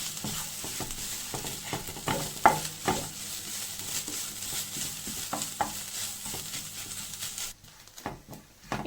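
Grated coconut and cumin roast in a pan with a soft, low sizzle, broken by frequent scraping stirs and taps of a spoon, close by, before the sound briefly drops away near the end.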